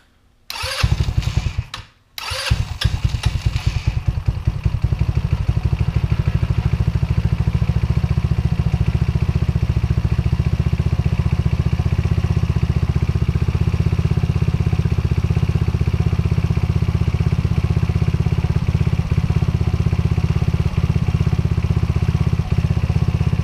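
A 150cc go-kart engine cranks with a few sputtering bursts, catches, and settles into a loud, steady idle that runs evenly for about twenty seconds.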